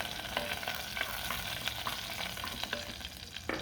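Mustard seeds and curry leaves fry in coconut oil with a soft, continuous sizzle dotted with small crackles and pops, quiet and close with no talking.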